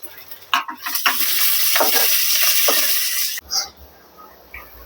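Onion and a little coriander fry in a tempering for soybean pulao, crackling and sizzling close up while a spoon scrapes and stirs the pan in short bursts, then the sizzle drops away.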